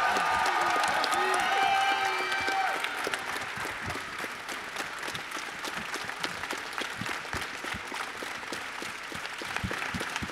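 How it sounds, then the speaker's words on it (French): Sustained applause from a large crowd at a Japan Expo 2019 conference, dense clapping with some cheering and whoops, loud at first and tapering slightly while voices mix in. "Un tonnerre d'applaudissements pour France 5."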